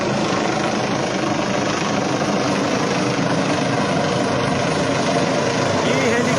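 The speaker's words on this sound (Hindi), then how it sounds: "हेलीकॉप्टर आप देख सकते हैं लाइव में," A helicopter's loud, continuous rotor and engine roar fills the air, steady and unbroken throughout, close overhead.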